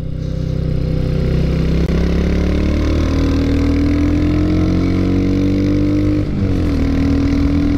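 Engine of a 2022 Royal Enfield Hunter 350 motorcycle on the move, a loud, steady close-up drone whose pitch climbs gradually under load, with a brief dip at a gear change.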